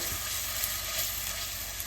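Steady, loud sizzling of food frying in hot oil, a continuous crackling hiss with small pops, close by and with no voices.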